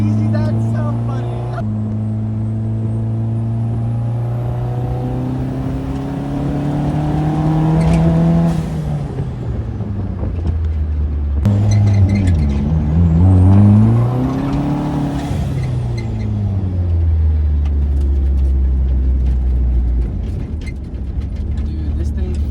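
A forged turbo Mazda Miata accelerates hard from a light, its engine revving up through gears with rising whine and loud droning tone, dipping between shifts, heard from inside the car with people talking over it.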